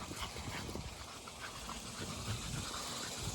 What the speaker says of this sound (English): y'all can see they already panting, breathing heavily